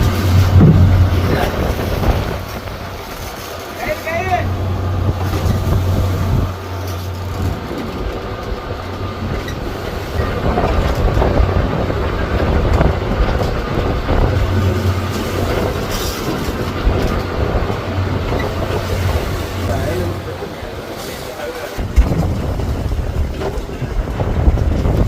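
A fishing boat motors across open water toward a new fishing spot, a steady low engine drone running throughout with wind buffeting the microphone and water rushing along the hull.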